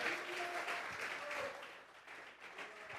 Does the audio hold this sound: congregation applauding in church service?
yes